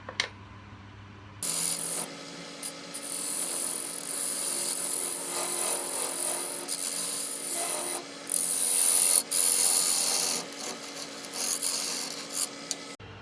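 A wooden wedding ring box being shaped on a woodturning lathe gives a steady, close rasping scrape of tool on spinning wood, running unbroken for about twelve seconds after a brief quiet start.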